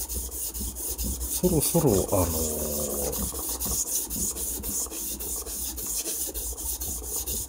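A quartz crystal is polished by hand on 800-grit waterproof sandpaper, making a steady, close rasping rub that runs throughout, with a brief word spoken partway through.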